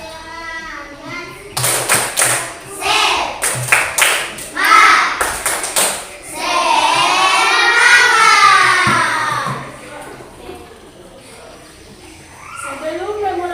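Schoolchildren in a classroom perform a rhythmic tepuk semangat clapping chant, with sharp bursts of claps interleaved with loud chanting voices, followed by sustained group singing.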